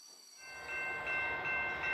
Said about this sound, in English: Here is a big orange freight train pulling lots of colorful carriages.